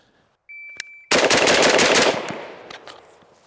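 A Primary Weapon Systems MK114 rifle fires a rapid string of loud, close shots on a range drill after a short electronic timer beep, the blasts running together and ringing out in a fading tail.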